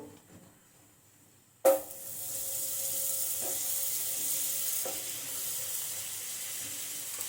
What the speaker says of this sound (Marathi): इथे आपण ब्रेडचे स्लाइस बटरवर शेकून घेऊ